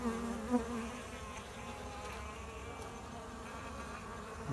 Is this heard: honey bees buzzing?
yes